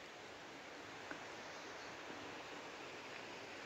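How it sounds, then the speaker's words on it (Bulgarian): A rushing mountain river gives a steady, even broadband roar throughout, with no voices over it. The setting is a quiet mountain spot. "слушај така се слуша убаво шумот на реката"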